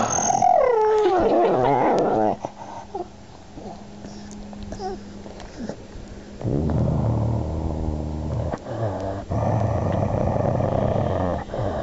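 A dog growls and grumbles in long, throaty, voice-like rumbles, some rising and wavering, close and fairly loud, with short pauses between bouts.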